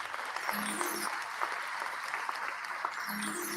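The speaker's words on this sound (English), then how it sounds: "Give them boys a round of applause" Audience applause at a Verzuz music battle livestream, steady broadband clapping throughout, moderately loud and continuous with faint overlaid voices and tones.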